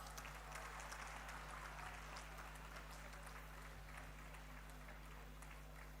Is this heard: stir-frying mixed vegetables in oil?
no